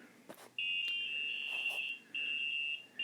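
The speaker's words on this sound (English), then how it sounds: "and then ready plays that tune" A FastCAT dog-racing timer sounds its electronic ready tune, a loud shrill steady tone held in long stretches with brief gaps, following a couple of soft clicks.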